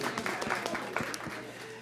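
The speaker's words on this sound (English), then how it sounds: "you can give her a round of applause" An audience at a city public safety forum applauds the mayor, scattered claps over a low room hum with a voice briefly mixed in.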